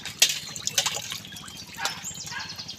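Tap water runs and splashes over glasses and plates as a three-year-old child rinses soap off dishes at a sink, with small clinks and drips close by.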